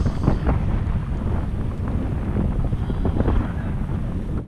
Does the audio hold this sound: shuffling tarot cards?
no